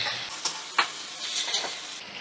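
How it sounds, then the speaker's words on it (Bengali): Rice, onion and ginger-garlic paste are stir-fried in a pan over a medium flame, giving a soft continuous sizzle broken by a few sharp scrapes and clicks of stirring. "এবার চাল, পেঁয়াজ আর আদা রসুন বাটা আমি ভালো করে একসাথে নাড়াচাড়া করে নেব।"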